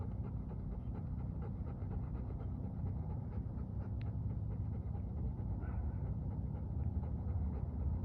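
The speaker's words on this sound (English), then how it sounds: "These puppies are just having a grand old time." Puppies pant steadily close by, a quiet rhythmic breathing that runs throughout with an occasional faint whimper, heard alone at low volume.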